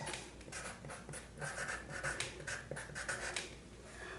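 A pen or marker scratches and swishes across paper as someone draws curved lines. The strokes come in short, uneven bursts, close and faint, with no talking.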